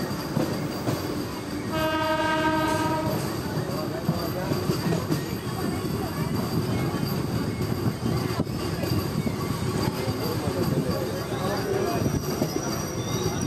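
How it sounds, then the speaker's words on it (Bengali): A train pulling into Sitarampur Junction in West Bengal rumbles steadily and loudly, with a brief horn blast near the start and a constant rolling clatter of wheels on track throughout, and a voice is heard faintly under it. "এই তো আমাদের ট্রেন এখন সীতারামপুর জাংশনে প্রবেশ করছে।"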